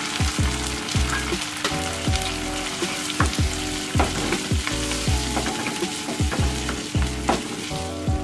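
Garlic, onion and tomato puree sizzling and frying in a pan for a pan pizza sauce, steady close sizzle with repeated stirring scrapes every second or so, no talk.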